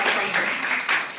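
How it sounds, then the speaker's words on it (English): An audience at a startup sales and marketing workshop applauds Surojit with a brief, steady burst of clapping from many hands, mixed with some voices. "Please clap for Surojit."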